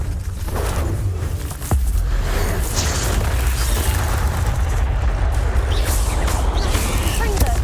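Bombarda and Confringo spells blast in the Hogwarts Legacy video game, a run of deep booming explosions and crackling bursts layered over a continuous rumbling battle, loud and close, with a voice speaking over it.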